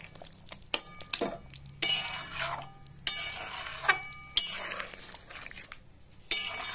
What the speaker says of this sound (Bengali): পটলগুলো দিয়ে ভালো করে নেড়েচেড়ে নেব।